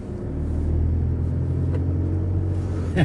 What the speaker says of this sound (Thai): ช่วงล่างใช้ได้เลยเก็บรอยต่อปูนซีเมนต์นี้ผมว่าใช้ได้เลยนะ